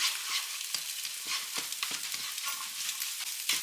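Egg being scrambled in a hot pan for ramen noodles, a close continuous sizzle broken by quick repeated scrapes and taps of the utensil against the pan.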